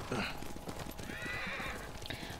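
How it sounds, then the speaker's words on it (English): A horse in the video game Ghost of Tsushima gallops with rapid, loud clip-clop hoofbeats, and a sharp neigh rises near the end while someone talks over the game sound. "Get on my horse."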